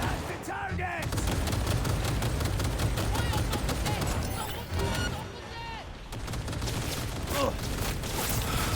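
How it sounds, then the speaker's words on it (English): Gunfire in Cyberpunk 2077: Phantom Liberty, rapid bursts of automatic shots and impacts layered with game music and effects, loud and dense throughout, with a brief lull midway. "now they're shooting me too?"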